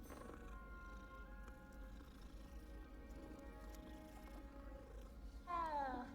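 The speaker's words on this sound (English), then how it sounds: "Kitty!" A cat purring in the video game Hogwarts Legacy, a low continuous rumbling purr held steady throughout, with a brief higher meow-like cry near the end.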